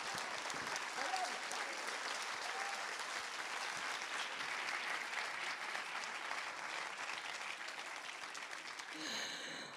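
A masterclass audience at an oratory school's 50th anniversary breaks into loud, sustained applause that fills the room steadily for about ten seconds, then begins to thin out.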